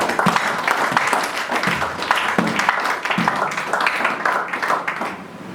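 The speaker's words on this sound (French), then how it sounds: "On acclame ici." A church congregation applauding during a sermon, a dense burst of clapping that runs steadily for several seconds and then begins to thin out at the end.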